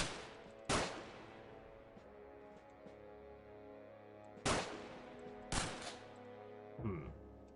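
Gunshots in the turn-based video game XCOM (The Xcom Files) mod, four separate loud cracks spaced apart with a ringing musical background between them.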